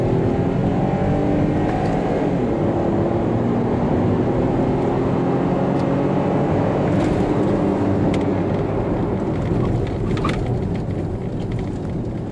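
A Ford EcoSport Freestyle compact SUV engine under throttle, its drone rising steadily in pitch as the car gathers speed, heard from inside the cabin with continuous road and engine rumble and no talking.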